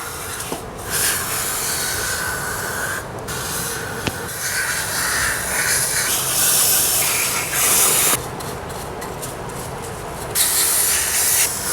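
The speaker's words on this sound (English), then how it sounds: "what we're using is the Worth carburetor and injector cleaning, you see, because we're doing the injector cleaning right now" An aerosol can of Worth carburetor and injector cleaner sprays onto a motorcycle throttle body in repeated hissing bursts of several seconds each, with brief gaps between them, close and fairly loud.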